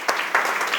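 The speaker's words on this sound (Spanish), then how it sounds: "vamos a darle un aplauso al Señor" A church congregation gives a short round of applause, a steady wash of many hands clapping with a few sharper claps on top, fairly close.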